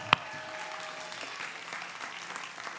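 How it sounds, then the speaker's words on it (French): An audience claps steadily for children after a performance, a continuous patter of many hands with one sharp clap standing out at the start. "On peut les applaudir encore bien fort."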